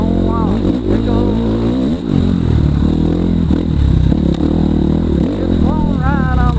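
KTM 690 motorcycle ridden in a scrambles race, engine revving up and down loudly and close with gear changes and rattling clatter, while a voice sings over it.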